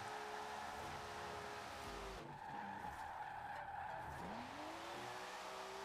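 Nissan S13 drifting in Forza Horizon 4, a steady loud engine drone with rising tire squeal sliding sideways through the clip, pitch sweeping upward near the end.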